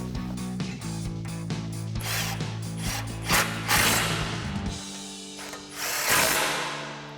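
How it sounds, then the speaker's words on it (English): A ratchet with a 15mm socket tightens bumper bolts on a 2021-2023 Ford F-150, clicking in quick repeated bursts of pawl ticks over a low mechanical hum, close and fairly quiet. "Then we'll come back with our 15mm socket and tighten these down."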